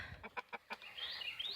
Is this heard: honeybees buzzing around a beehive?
no